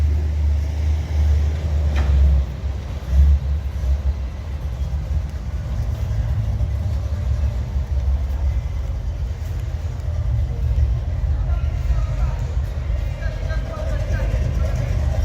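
A Buick 455 Stage-1 Regal engine runs with a steady, loud, deep rumble that holds throughout, with only a slight swell near the start.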